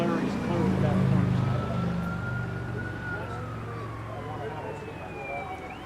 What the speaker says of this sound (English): we can wait for this ambulance to pass too